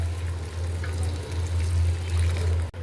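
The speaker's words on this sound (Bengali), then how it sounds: "আমি একটু গরম পানি দিয়ে ঝোল দিয়ে দিই" Hot water poured into a chicken curry in a pot, giving a steady, close splashing pour over a low hum that runs almost three seconds before stopping abruptly.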